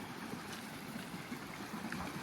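Stream water rushing at a river crossing in Angeles National Forest, a steady close wash and trickle with no voices.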